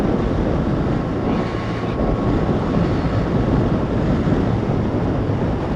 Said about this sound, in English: The wind, by the way, I'm doing 60 miles an hour now.